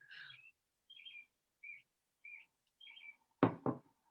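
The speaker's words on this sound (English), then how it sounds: "Who's got birds singing? Oh, it's me. I have the window open." Several short bird chirps and trills repeat at intervals, heard fairly faint and distant through an open window, followed by two sharp knocks near the end.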